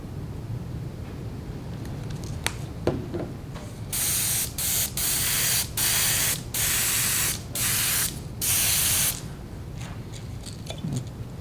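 Several short bursts of pearl white paint spraying onto a crappie fishing lure, loud hissing blasts separated by brief pauses, with quiet background between.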